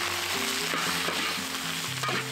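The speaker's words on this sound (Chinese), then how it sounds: "油烧热了，排骨下锅给它炒香" Pork ribs hit hot oil in a wok, giving a close, steady sizzle and crackle with light stirring throughout, while a low tonal hum runs underneath.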